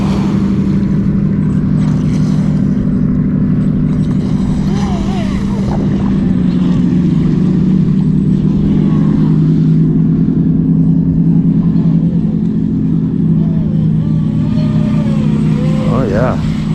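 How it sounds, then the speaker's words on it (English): A stock ProBoat Recoil 2 Shreddy Edition RC boat, right out of the box, runs on open water through wakes, its motor giving a steady loud buzzing drone throughout while a person talks over it outdoors. "First run, Recoil 2 Shreddy, all stock right out of the box."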